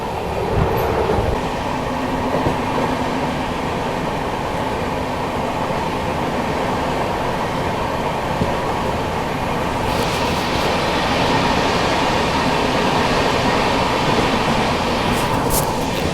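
A New Delhi–Banaras Superfast Express rolls through Anand Vihar at high speed, its steady loud rumble and rail noise continuous throughout, with brief brighter hiss bursts near the end.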